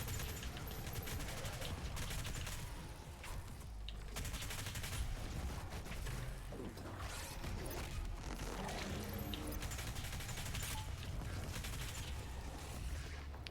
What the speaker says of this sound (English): Micro missiles.